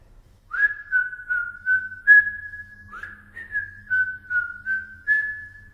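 Someone whistles a bright, lilting tune alone, in short phrases with brief pauses between them.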